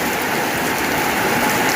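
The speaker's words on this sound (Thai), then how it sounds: "กำลังพากันตื่นนอนมาเห็นว่าฝนตก" Heavy morning rain pouring steadily in the countryside, a dense, even wash of drops hitting surfaces close by with no breaks and no talking.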